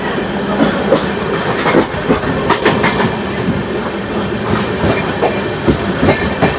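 A passenger train on a journey to Tirupati rolls steadily along the rails, with continuous loud rumble and rhythmic clickety-clack of wheels over joints, close and unbroken throughout.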